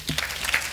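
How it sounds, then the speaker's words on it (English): An audience at a children's devolution conference claps for themselves in a brief, dense burst of applause from a crowd in a hall. "Can we clap for ourselves?"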